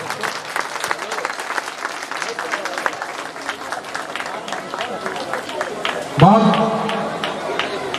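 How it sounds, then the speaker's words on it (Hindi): An audience at a Teacher's Day program in Titagarh Bansbagan claps continuously, steady applause with crowd murmur running through, and near the end a loud amplified tone or feedback-like sound rises over the clapping. "अब तो तालियां बजाइए बहनों।"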